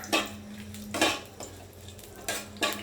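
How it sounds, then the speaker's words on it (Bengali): Cinnamon, cardamom and cloves lightly frying in a pan: a soft sizzle beneath four sharp metallic clinks and scrapes of a utensil against the pan, close and fairly distinct, with no voices. "এগুলোকে হালকা ভেজে নিচ্ছি।"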